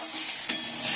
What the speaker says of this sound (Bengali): আর এদিকে পেঁয়াজ আর টমেটোটা ভালো করে ভেজে দিচ্ছি।